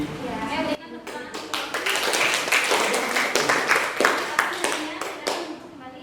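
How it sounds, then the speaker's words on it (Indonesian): A classroom group applauds, with dense, steady hand clapping that begins abruptly and carries on for several seconds at a fairly loud level before thinning out, and voices are heard underneath. "saya berikan tepuk tangan"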